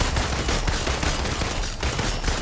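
Rapid pistol fire in the Avengers video game, dense overlapping shots filling the whole stretch with steady, loud crackling bursts and no clear gaps.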